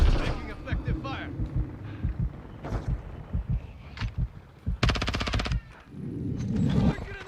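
Rapid automatic gunfire bursts in Call of Duty Modern Warfare II, loud and close, with a long sustained burst near the middle amid scattered shots, impacts and background battle noise.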